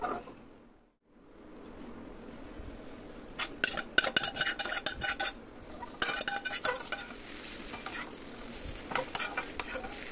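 Maggi noodles are stirred into cooked egg in a hot kadai, with repeated scraping and clinking of a spatula against the metal pan under a soft sizzle, busier in the second half.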